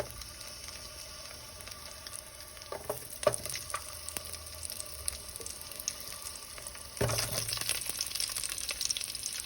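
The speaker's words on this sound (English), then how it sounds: "add your onion into that oil" Chopped onion dropped into hot oil in a stew pot for beef stew, a steady sizzle and crackle with stirring clatters, rising sharply partway through as more onion hits the oil.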